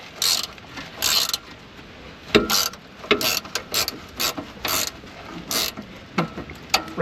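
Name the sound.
ratchet wrench loosening 18 millimeter axle bolts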